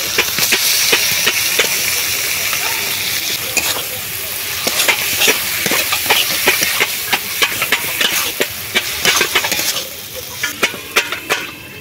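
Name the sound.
red Sundarbans prawns added to frying pan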